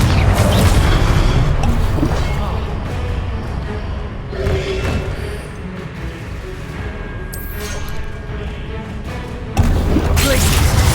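Fire spell explosions in Hogwarts Legacy boom and crash in loud, dense bursts, with rumbling blasts and debris filling most of the stretch and a sharp new blast at the end.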